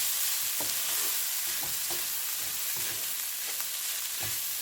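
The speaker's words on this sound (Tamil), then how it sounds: "சுறாவை போட்டு நல்லா மிக்ஸ் பண்ண போகிறோம்." Shark mixture for sura puttu stirred in a hot pan, giving a constant close frying hiss with soft, irregular scraping strokes of the spoon throughout.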